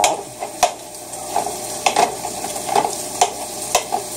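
A knife chops and scrapes partly frozen hamburger meat in a frying pan, sharp irregular metallic taps and scrapes over a steady sizzle of grease, close up with no talking.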